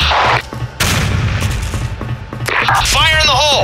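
Loud, close video-game gunfire and grenade blasts, dense bursts with a brief lull, then a ringing whine near the end, with shouted voices mixed in.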